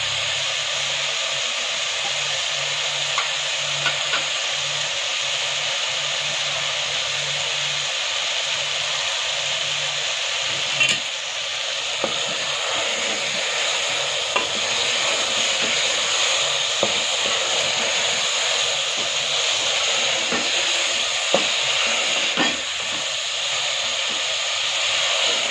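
Meat masala for tinda gosht roasts in a pan with a constant loud hiss and steamy sizzle, a few faint clicks and taps of a utensil surfacing over the steady wash.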